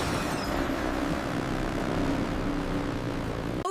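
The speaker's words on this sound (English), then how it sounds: "Wow! A flying plane!" An animated propeller airplane flies past in a steady, loud engine drone with a whirring airscrew that holds constant before cutting off abruptly at the end.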